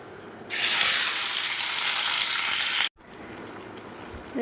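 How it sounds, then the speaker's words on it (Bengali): Chicken pieces drop into hot oil in a kadai for chicken kosha, setting off a loud, steady sizzle that lasts about two and a half seconds and then cuts off abruptly, leaving a quieter background. "তেল গরম হয়ে গেছে, এবার আমি মাংসগুলো দিয়ে দেব"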